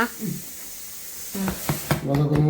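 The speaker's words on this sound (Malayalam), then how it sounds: "ഇത് പൊരിക്കാട്ടാ മതിയല്ലമ്മ." Hand-made samosas filled with masala sizzle as they fry in hot oil, a soft steady hiss broken by a few brief bursts of crackle, with a voice speaking over the later part.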